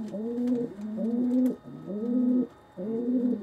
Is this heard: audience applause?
no